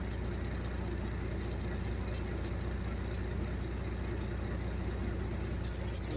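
A steady, low engine drone runs throughout, a Kenworth 900 truck engine humming continuously with constant road-like rumble and no voices.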